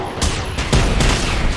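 Rapid bursts of gunfire in the Generation Zero video game, several sharp booming shots in quick succession, loud and close with a rumbling low end and no talking.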